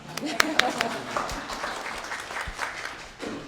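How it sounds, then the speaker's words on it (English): A panel audience applauds, a burst of clapping that carries on beneath a person talking over it. "You can clap."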